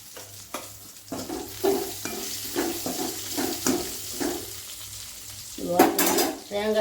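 Tomato curry cooks in a pan, with repeated rhythmic stirring scrapes and a bubbling sizzle close by, then a brief burst of water toward the end.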